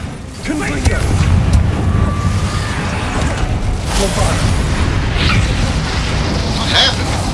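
A fiery Confringo spell blast bursts in the Hogwarts Legacy video game, a loud booming roar followed by sustained rumbling crackle, with a voice speaking over the noise.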